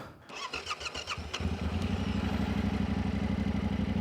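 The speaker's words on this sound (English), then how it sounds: "let me go grab the motorcycle. I'm going to crank it up off camera." A motorcycle engine cranks with rapid starter clicks, then catches and settles into a steady, throbbing idle close by.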